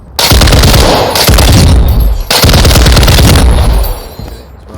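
Rapid automatic gunfire from a weapon in the Warzone 2 firing range, loud sustained bursts of shots with brief pauses between strings, no talking.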